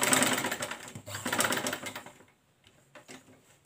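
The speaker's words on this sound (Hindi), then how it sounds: "यहाँ से गुलाई में सिलाई शुरू करेंगे।" A sewing machine stitches the curved raglan seam of a baby frock in two short close bursts of rapid ticking, then falls to a few faint taps.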